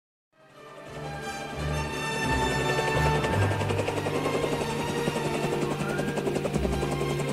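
An aircraft arriving at Isla Nublar fades in from silence and holds a heavy, rumbling, rotor-like drone that builds and stays steady and fairly close throughout.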